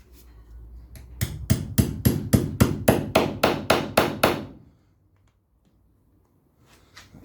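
A hammer strikes rivets into a Land Rover door seal in a rapid, even burst of about a dozen loud, close blows, followed by silence and a few faint taps.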